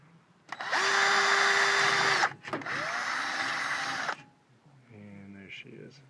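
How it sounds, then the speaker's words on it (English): A power drill with an 11/64 bit whines loudly at high speed in two long bursts, drilling out rivets on a motorhome engine hatch, pitch dropping as it bites, followed by softer clicking and rattling. "I'm using 11/64 drill bit to get the rivet out."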